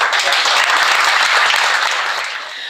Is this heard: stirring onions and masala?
no